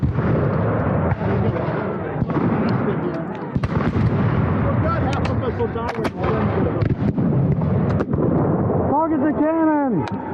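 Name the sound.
cannon and musket fire at Revolutionary War reenactment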